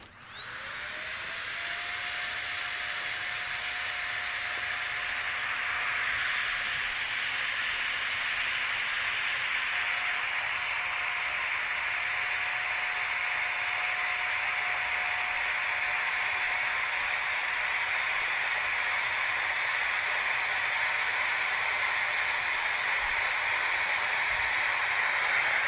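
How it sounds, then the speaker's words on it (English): A vacuum pump draws air out of a GONGSHI vacuum seal bag packed with blankets, pillowcases and bed sheets, a steady loud whirring drone with a high whine that holds evenly to the end. "vacuum."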